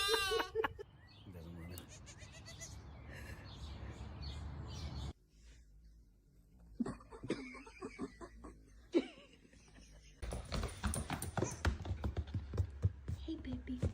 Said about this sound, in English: You wanna watch tiny, adorable baby lambs and goats?